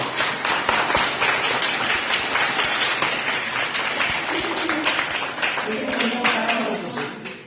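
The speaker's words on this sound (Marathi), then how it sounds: "टाळ्या वाजवत होता, टाळ्या वाजवत होतो." An audience applauds at a speech, a dense, loud and continuous wash of clapping that holds without a break and eases slightly at the very end.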